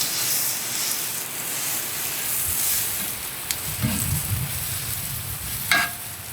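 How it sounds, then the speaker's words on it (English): Butter melting on a hot grill before cooking an A5 Japanese wagyu cheeseburger: a dense, close, continuous sizzling hiss with a few small pops and spits. "First things first, we're going to throw some butter on."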